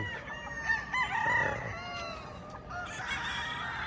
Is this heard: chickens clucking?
yes